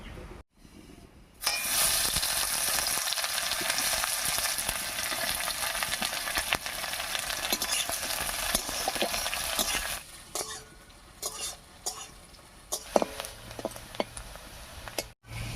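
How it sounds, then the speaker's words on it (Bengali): Chopped onion hits hot oil in a pan already holding whole cumin, dried chilli and bay leaf, giving a loud, steady sizzle for several seconds that then drops to a quieter crackle with scattered utensil clicks. "এবার এর মধ্যে দেবো পেঁয়াজ কুচি"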